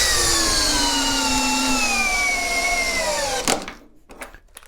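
A cordless power tool on a 6 amp hour battery whines loudly and steadily with a slowly falling pitch, then cuts off sharply and leaves a few faint clicks and knocks.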